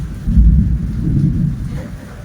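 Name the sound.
rain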